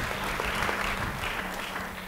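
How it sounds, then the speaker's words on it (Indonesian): Applause from a church congregation during a sermon, a steady dense clatter of many hands that runs the whole time at moderate level, with faint voices mixed underneath. "beri tepuk tangan bagi dia"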